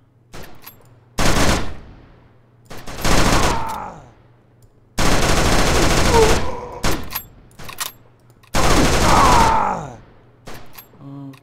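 Bursts of automatic gunfire and sniper shots ring out in a cover shooter video game, loud clustered volleys separated by short quiet gaps, with groaning and a voice speaking between them.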